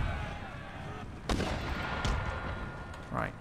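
Battle in Empire Total War with the Darthmod mod, fought by an Ottoman army: a rumbling din of gunfire with a few sharp cannon blasts spaced about a second apart.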